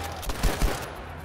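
Several quick gunshot bursts from a World War II-era firearm in a shooter game, sharp thumps spaced a fraction of a second apart, moderately loud against a low background.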